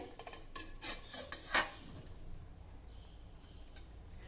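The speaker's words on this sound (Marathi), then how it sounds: "ह्या कुकरच्या पाण्यामध्येच आता आपल्याला हे मीठ घातलेल्या पाण्याचं भांडं ठेवायचं आहे" Metal clanks and scrapes as a pot of salted water is set down into the water inside a pressure cooker, a cluster of sharp clinks followed by quiet.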